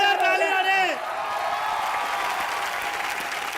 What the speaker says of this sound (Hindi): एक बार जोरदार ताली मारे।